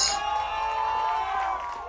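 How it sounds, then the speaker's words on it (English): Cheering and applause from an audience at a live concert, a loud steady crowd roar with whoops and high voices sustained throughout, heavy and close. "All the applause"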